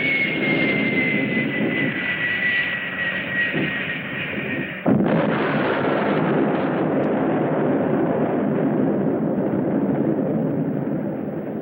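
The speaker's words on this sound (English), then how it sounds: "Only a nuclear bomb could cause a blast like that." A film blast in the 1966 monster movie Gammera, bursting in abruptly midway through a dense, steady roar of jet aircraft engines that carries on loudly afterward.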